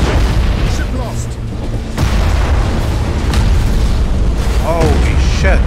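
A spaceship explodes in the space battle game Battlefleet Gothic Armada 2, a dense rumbling boom with bursts layered under continuous game noise and overlapping voices.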